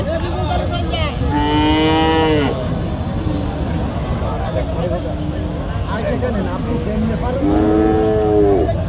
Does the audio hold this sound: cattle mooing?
yes